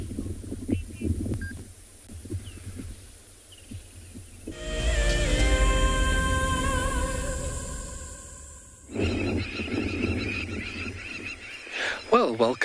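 Birds call at a watering hole on a Kalahari reserve in South Africa, with goose-like honking and clear tonal calls building in the middle into a loud, layered chorus, then busier chirping near the end.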